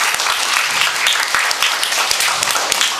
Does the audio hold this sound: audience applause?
yes